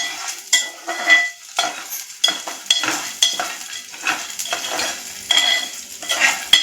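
Roasted, skinned peanuts stirred in a pan for peanut chutney, with repeated scraping spoon strokes and a light frying sizzle in an uneven rhythm, close and fairly loud.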